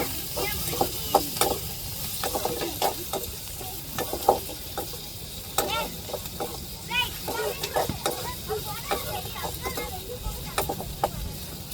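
Anchovies and garlic sizzle and crackle in a hot pan, a steady close frying hiss broken by brief scraping stirs, with no voices.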